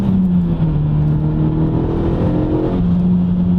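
A third-generation Renault Megane RS on Michelin Pilot Sport 5 tyres, driven spiritedly on the road, holds a loud steady engine drone from inside the cabin, the pitch dipping slightly before rising again.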